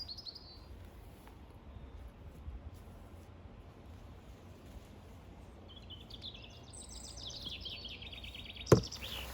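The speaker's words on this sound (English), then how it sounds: "you can hear the birds singing in the background" Faint bird chirps and twittering songs drift in from afar over quiet outdoor ambience in a UK garden, growing busier toward the end, followed by a sharp knock.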